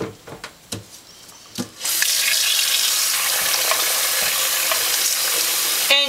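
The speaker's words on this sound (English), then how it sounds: "you want to rinse it until the wash water runs clear" Tap water pours into a sink to rinse hand-dyed wool roving, starting abruptly after a few soft knocks and handling sounds, then running as a steady, close, hissing stream to the end.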